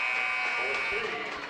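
Basketball end-of-quarter buzzer at a Lakin Broncs vs Goodland game, a steady loud electronic drone held for over a second under crowd noise and an announcer's commentary.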